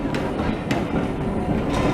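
A regular passenger train on the line to Rawtenstall pulls away from the platform, giving a steady, dense low rumble with faint periodic clanks, heard close and alone.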